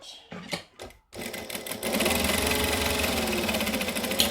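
A sewing machine back stitches on a fabric pouch, a few short bursts first, then steady, fairly loud continuous running after a brief pause.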